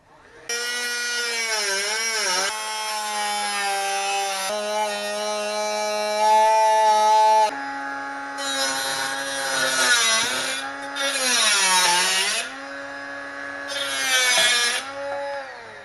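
A power tool cutting a rear valance panel, a loud, high whining buzz close by that runs in long passes, its pitch sagging and recovering as it bites, with brief pauses between cuts.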